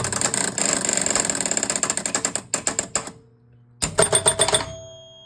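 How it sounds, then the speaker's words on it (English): Spin pulse relay in an electromechanical Flip a Card pinball machine clatters in a fast, steady run of sharp mechanical clicks, then slows into separate snaps, pauses briefly, and resumes with a short final burst, close and loud with no talk. "watch the spin pulse relay over there"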